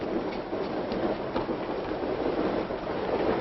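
Continuous rumble and rattle of a moving train, a steady broad roar with faint rhythmic clacks throughout, fairly loud and close with no voices.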